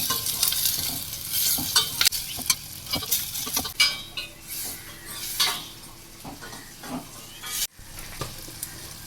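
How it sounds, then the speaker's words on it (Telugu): Tomatoes sizzle and fry in a pan for a mango fish curry, with steady close crackling broken by repeated stirring and scraping of a utensil against the pan. "టమాటాలు వేసుకుంటున్నాను."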